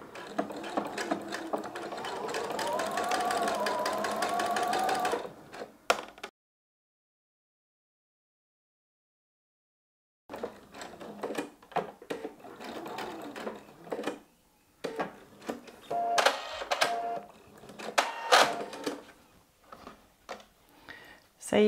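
A sewing machine stitches a pocket facing on a Friday Pattern Co. Saturday midi skirt, running in a steady mechanical burst at first, then going quiet before several shorter start-stop runs with clicks, while a voice talks along.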